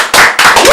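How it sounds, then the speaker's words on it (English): Applause for guest David Chaudoir rings out as loud, close bursts of clapping from an audience, dense and sharp, filling the short moment. "Everybody, round of applause for David Chaudoir."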